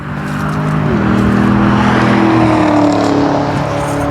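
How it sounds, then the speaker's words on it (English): A car, apparently one of the newer Camaros, races past nearby with a loud engine roar whose pitch climbs as it accelerates, filling the whole stretch without any talking. "Well, here comes somebody racing."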